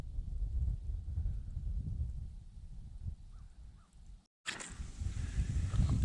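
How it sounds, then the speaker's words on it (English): Wind blowing across an outdoor conservation area with muddy trails, a steady low rumble buffeting the microphone throughout, briefly dropping out near the end before gusting back in. "So the wind is making it a little chilly."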